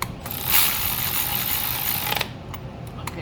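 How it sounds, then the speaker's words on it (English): A ratchet clicks rapidly while tightening spark plugs on a Honda Accord, close and crisp for about two seconds, followed by a few isolated clicks. "Now we're gonna use my ratchet to tighten them up."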